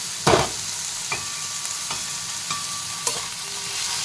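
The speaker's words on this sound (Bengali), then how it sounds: "এই যে চাপিয়ে দিয়েছি উচ্ছে আলু ভাজাটা" Bitter gourd and potato sizzle gently in a hot pan, with a few sharp clatters of a spatula stirring them, close and fairly quiet.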